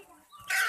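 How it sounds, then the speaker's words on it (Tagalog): A short burst of chicken clucking rises suddenly near the end after a quiet start, close and fairly loud. "Dito ba yung manok?"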